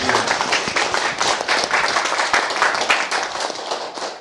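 Dense, sustained applause from an audience at a press conference on a lawsuit over a monk's disciplinary expulsion, many hands clapping steadily and fairly loud throughout, with no voice over it.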